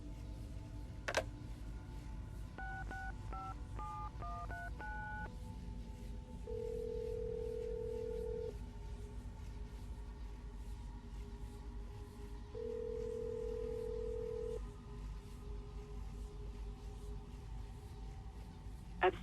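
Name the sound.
telephone being dialed in Assassin's Creed Brotherhood video game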